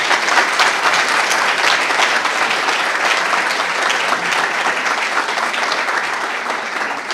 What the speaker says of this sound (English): How about one round of applause for all of the recipients?